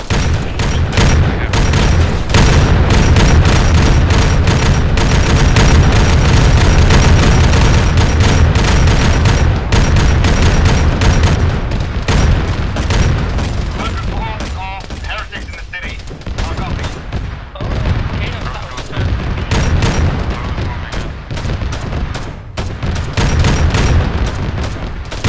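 Loud, sustained gunfire and booming explosions from an ArmA 3 battle fill the whole stretch, with dense overlapping shots and blasts that ease slightly midway, while voices talk over the combat.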